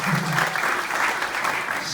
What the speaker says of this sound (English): Give Precious a round of applause.